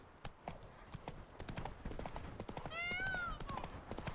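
Roach, a horse in The Witcher 3, walks with quick, light hoof clip-clops and gives a short whinny near the end, fairly faint under a speaking voice.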